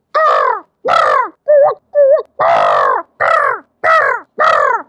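A person mimics a crow, giving eight harsh, loud caws in an uneven rhythm, two shorter ones in the middle, each separated by brief silence.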